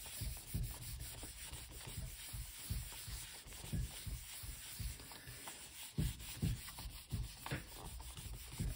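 Paper being rubbed by hand against a gel printing plate coated with gold leaf, giving a steady run of close, scratchy rubbing strokes in a quick, uneven rhythm with no talking.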